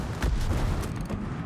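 Heavy naval guns boom from a British tier-ten battleship in World of Warships, a dense rumbling salvo of deep blasts rolling together over about a second and a half, loud and close with no talk over it.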